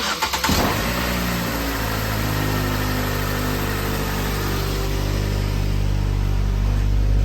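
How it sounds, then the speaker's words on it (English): A steady hum fills a car cabin after a brief clunk at the start as the AC compressor turns on, a low droning tone holding constant with no talking. "Compressor did come on."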